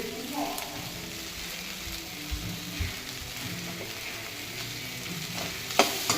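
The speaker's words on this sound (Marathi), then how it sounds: "चला आता भरपूर परतवली गेली आपली भेंडी।" Okra (bhindi) being stir-fried in a pan, with a steady, moderately loud sizzle and crackle throughout and occasional scraping stirs, plus a sharper burst of spatter near the end.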